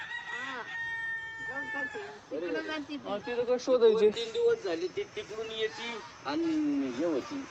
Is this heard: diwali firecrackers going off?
no